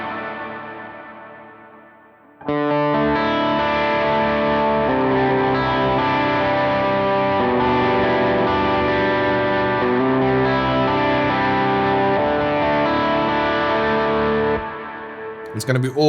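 Electric guitar in a worship-style tone runs through a reverb effect with a long decay. After a short fading tail, a loud sustained chord rings steadily for about twelve seconds, then a smeared, echoing wash trails off before the next strum.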